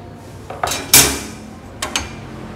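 Enamel pot support grates on a Japanese Paloma IC-66WCR-R gas stove are handled, giving a few sharp metallic clanks and clatters, one loud knock near the middle and two lighter taps after it, close by with no talk.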